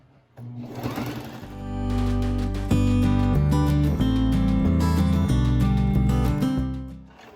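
A sewing machine runs steadily, stitching a cloth face mask, its motor hum and needle chatter loud and close, building up from a brief start and holding continuously for several seconds before easing off, with no talk.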